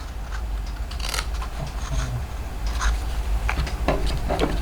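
Scissors snipping and trimming excess material from a handmade photo box, with several close, crisp cuts and papery rustles in quick irregular bursts.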